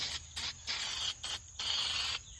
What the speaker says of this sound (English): we're going to spray the black glaze into the hang up